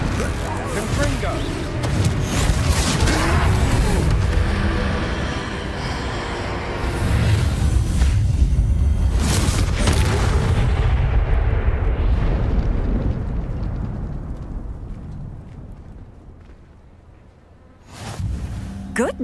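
Confringo explosive spell blasting a troll in Hogwarts Legacy: a sustained, loud roaring blast with rumbling debris that slowly decays into quiet, followed by a fresh burst near the end.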